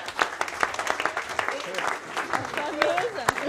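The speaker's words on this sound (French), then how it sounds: "On l'applaudit bien fort" Audience applause at an amateur putting contest, a steady patter of clapping hands mixed with voices and chatter throughout.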